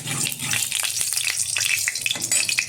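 Crushed cardamom seeds hit hot melted ghee in a wok and sizzle steadily up close, a dense hissing crackle with small pops and no talk.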